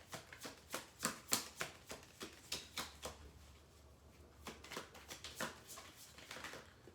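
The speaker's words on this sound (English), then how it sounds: "when I was shuffling this deck, the cards were flying kind of everywhere" A deck of tarot cards being shuffled, a quiet, close series of crisp riffling snaps and soft slaps in an uneven rhythm, with a brief low hum partway through and no talking.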